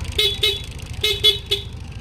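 Stock horn on a Yamaha NMAX V2 scooter, sounded in four short honks: two close together, a pause, then two more, loud and near with no talking.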